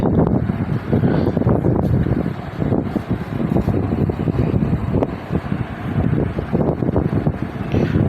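Strong storm wind roars and buffets close by in a dense, continuous low rumble, gusting unevenly throughout with no voices.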